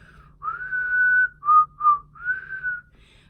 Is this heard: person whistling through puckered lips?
yes